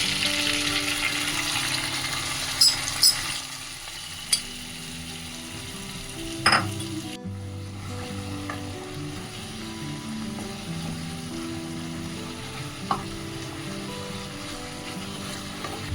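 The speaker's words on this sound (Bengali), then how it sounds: "এবারে আস্তে করে ভেজে দিচ্ছি" Katla fish frying gently in spice paste for a Bengali fish curry, a steady close sizzle broken by a few sharp utensil clicks and scrapes, with no voices.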